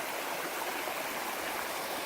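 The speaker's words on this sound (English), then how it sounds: "Water's running pretty fast." A fast-running mountain creek on the Mount Whitney trail at night, a steady hissing rush of water that is constant and moderately close, with no voices.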